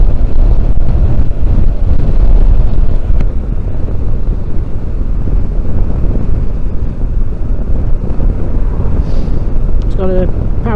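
Steady wind buffeting a rider's microphone on a Benelli TRK 702 motorcycle on a windy day, a continuous low rumble with engine and road noise that runs through the whole stretch.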